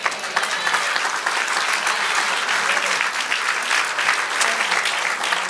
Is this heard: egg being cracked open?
no